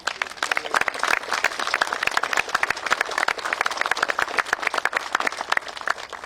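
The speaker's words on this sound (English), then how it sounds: "I think we ought to all clap for them because this is amazing." An audience applauds water safety divers at a West Virginia event with the governor: dense, lively clapping from many hands, loud and sustained throughout.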